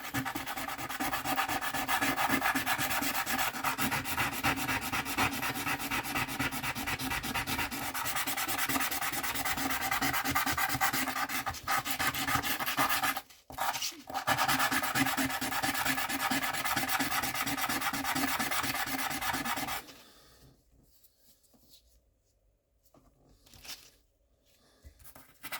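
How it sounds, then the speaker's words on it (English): Rhythmic back-and-forth strokes of 600-grit sandpaper on stone rasp steadily for a long stretch, pausing briefly midway, then stopping and leaving quiet handling noises. "just sanding my last time was 600 grit."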